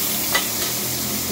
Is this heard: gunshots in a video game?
no